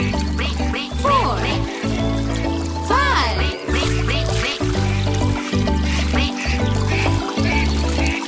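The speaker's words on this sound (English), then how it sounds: "Mother duck said, quack, quack, quack" A duck quacks repeatedly in a children's farm-animal song, giving several bright nasal quacks over a steady musical backing.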